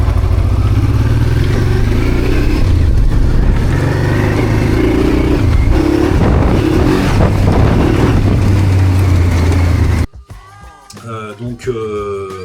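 Honda Transalp 650 prepared for off-road riding, its engine roaring loud and steady under throttle as the bike slides a little on loose ground, then cutting off abruptly near the end.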